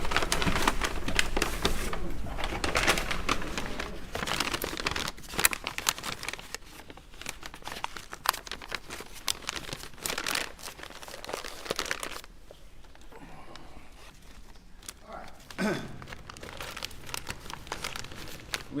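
Plastic evidence bag crinkling and rustling as it is handled in a courtroom during a murder trial, a close, continuous run of crackles and crumples that eases off partway through before a final burst.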